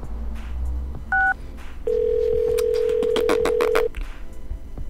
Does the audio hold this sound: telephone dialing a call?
yes